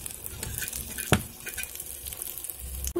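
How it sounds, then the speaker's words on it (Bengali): An egg fries in oil inside a capsicum ring over low heat, with a steady soft sizzle throughout and one brief louder clatter near the middle. No one speaks. "দেখুন হালকা তাপে ডিমটি প্রায় ভাজা হচ্ছে।"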